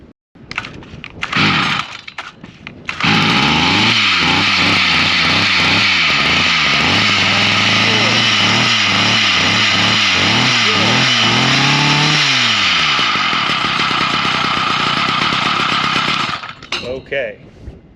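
A Stihl MM55C tiller's small engine runs rough and loud, sputtering and surging unevenly for over ten seconds before cutting out, with wind noise around it.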